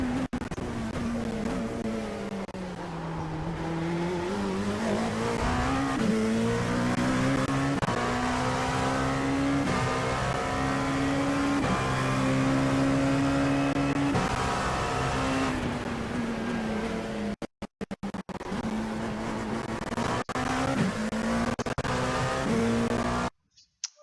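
An LMP2 prototype race car in the iRacing simulator at Sebring roars steadily at high revs, its engine pitch rising and falling through gear changes, loud and continuous for over twenty seconds with brief dropouts near the end.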